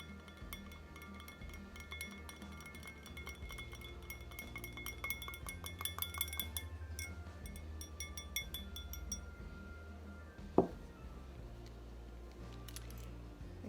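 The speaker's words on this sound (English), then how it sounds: "And we'll stir that all up." Beard oil mixture is stirred in a glass container, with faint, quick metallic clinks and ticks tapping along for several seconds, then one sharper knock against the glass before things settle.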